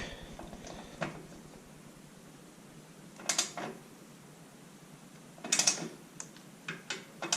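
Torque wrench tightening rock slider bolts on a 2024 Polaris Ranger XP 1000, faint ratcheting with a couple of louder click bursts, close and quiet with no talk.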